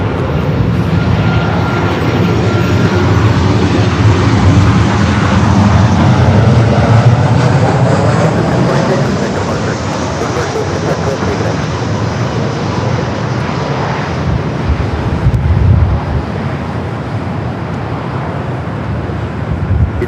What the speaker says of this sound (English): Next arrival here on the north side, Alaska, flight 487, coming up from Seattle, the 737-800.